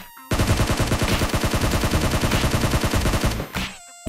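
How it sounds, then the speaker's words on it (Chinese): An M416 rifle with a red dot sight fires in sustained full-auto at a training target in PUBG Mobile, a loud, rapid, even stream of shots lasting about three seconds before stopping. "选好你的步枪，装上倍镜，找一个训练靶进行射击"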